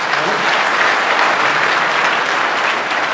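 An audience bursts into loud, sustained applause, dense clapping continuing evenly for several seconds with no speech on top.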